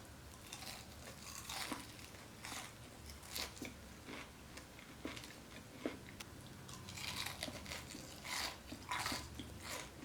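Crunchy bites into Sonic onion rings, repeated chewing crunches spaced through the stretch, close and fairly soft, with no talking.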